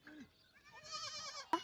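Young goats bleating in a village near the India–Pakistan border, a few short wavering cries close by, ending with a sharp brief knock.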